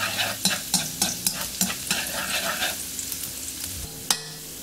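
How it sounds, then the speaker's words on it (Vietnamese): Minced garlic sizzles in hot cooking oil in a pan while being stir-fried for a seafood noodle dish, with a run of regular stirring scrapes and a steady crackling fry, one sharp clank near the end. "xào tỏi cho thơm"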